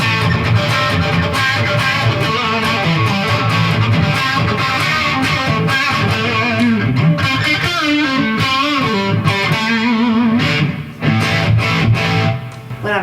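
Heavily distorted electric guitar through a Marshall JVM210 tube amp on its green crunch channel, playing thick, crunchy chords and riffs, loud and sustained with no talking, the tone dipping briefly near the end as it drifts out of tune.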